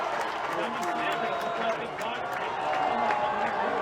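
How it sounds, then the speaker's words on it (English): Crowd noise rising at a high school football game between Anthony Wayne and Findlay, a broad roar with scattered claps and cheers under a commentator's voice. "Crowd coming to life."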